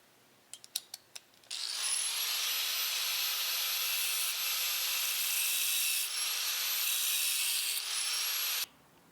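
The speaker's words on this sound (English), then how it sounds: "Grinder is gonna be loud." An angle grinder cuts slits into thick metal during fuel system work on an E30 time attack car. A few clicks come first, then a loud, steady high whine that runs for about seven seconds and cuts off abruptly.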